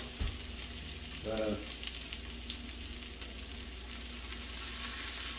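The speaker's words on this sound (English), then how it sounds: "incorporate that butter into your flour. Cook that flour down some" Butter and flour sizzle softly as a roux cooks in a pan, a steady frying hiss with a brief clink of utensils early on.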